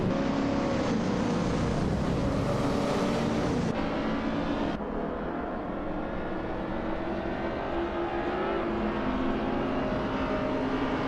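Racing cars roar past during a race in a dense, continuous wall of engine noise that stays loud and steady, with a few abrupt shifts in pitch and texture as cars pass and no talking.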